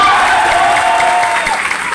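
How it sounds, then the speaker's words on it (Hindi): Audience applause for Bihar during a speech at a gathering in Sasaram's Royal Palace: a dense, steady wash of many hands clapping together, loud and close, continuing without a break for about two seconds. "अरे तालियां बजाओ बिहार के लिए।"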